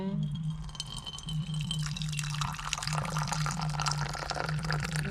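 Herbal kashayam coffee is strained into two glasses, a thin steady stream of liquid trickling and pouring with faint dripping throughout, close by, over a low steady hum.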